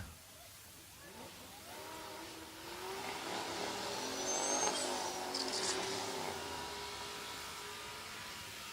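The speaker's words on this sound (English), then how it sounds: "This is going to be a matchup between Kyle Beaumont in the 70 Cougar, the Freddie Cougar, Greg Heisinger on the right-hand side in the 75 Jeep" Drag race cars, a 1970 Cougar against a turbocharged 1975 Jeep Cherokee, build from a distant rumble to a loud roaring pass that swells and then fades, with a faint turbo whistle.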